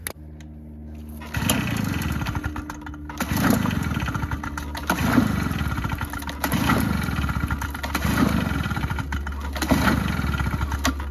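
A STIHL BR-400 gas backpack leaf blower, taken off choke, is pulled repeatedly. Each rough, loud pull sputters the two-stroke engine briefly, roughly every one and a half seconds, without it settling into a steady run.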